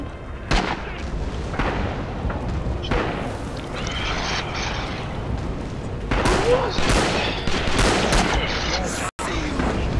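Explosions and gunfire from the war game Red Orchestra 2, with heavy booms and volleys of shots crowding the whole stretch while players talk excitedly over the battle.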